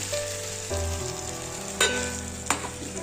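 Spice paste loosened with lukewarm water goes into a hot pan for chicken gravy, giving a steady close sizzle with two sharper bursts of spitting late on, and a tonal musical backing underneath.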